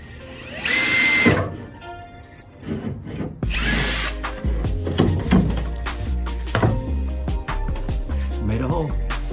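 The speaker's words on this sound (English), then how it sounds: "Drill a hole through the center" A power drill bores a hole through the roof of a short school bus being converted, bursts of whirring and grinding broken by pauses, close and loud.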